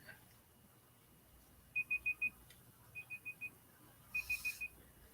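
A timer alarm goes off in a quiet room, sounding three bursts of four quick high beeps each, separated by short pauses, moderately loud over a low background hum.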